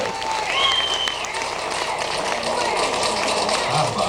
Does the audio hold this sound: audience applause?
yes